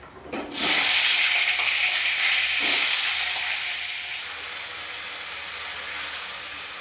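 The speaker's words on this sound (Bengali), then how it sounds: "গোটা গরম মশলা আলুগুলো একটু ভেজে নেব" Potatoes fry in hot oil with whole garam masala, a loud, close sizzle that bursts up as they hit the pan, then settles into a steady hiss that slowly softens.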